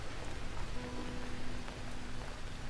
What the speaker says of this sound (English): Yeah, it sounds like raining outside